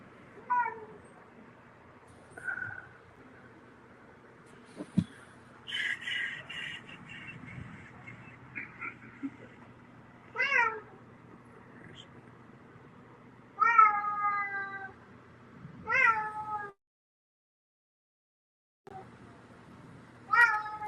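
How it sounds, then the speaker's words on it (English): A cat meows repeatedly, rising yowls spaced a few seconds apart, fairly close, with a quiet hum behind and a brief silence near the end. "If you're hearing that lion, that is my cat."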